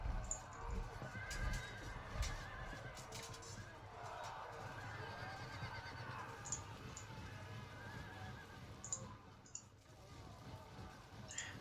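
Horses neighing amid the clatter of hooves in a Field of Glory II battle between Roman and Seleucid armies, heard at a fairly low level as a continuous busy mix.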